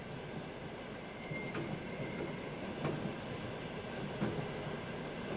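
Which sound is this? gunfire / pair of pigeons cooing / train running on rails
train running on rails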